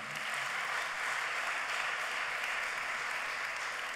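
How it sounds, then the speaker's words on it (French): A conference audience breaks into steady, sustained applause, dense, even clapping from many hands throughout, with no voices over it. "les applaudissements sont mieux qu'une bonne prime"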